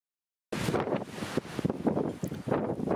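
Extremely strong mountain wind buffeting a microphone near a hut on the GR20 in Corsica, a loud continuous roar with gusting surges after a brief silent start.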